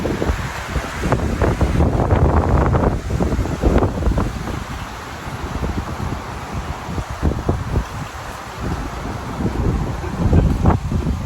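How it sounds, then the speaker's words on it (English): Wind buffets the microphone at Carlisle Beach, Barbados, with surf rolling and washing ashore beneath it, loud gusts rising and falling throughout, no voices. "this is Barbados, Carlisle Beach"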